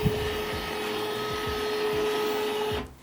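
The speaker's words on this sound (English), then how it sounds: "Your printer will then scan the page and make any adjustments to the print head that it thinks it needs to." A Canon PIXMA TS3750i printer scans the page during automatic print head alignment, giving a steady mechanical whine with soft rhythmic clicking ticks underneath, then a brief clunk as it stops.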